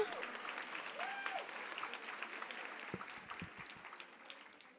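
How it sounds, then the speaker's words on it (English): Audience applause for two women panelists at a professional women's conference entrepreneurship panel, a steady crowd of clapping that slowly tapers, with a voice briefly heard over it. "Can we get another round of applause for Kristen and Vanessa?"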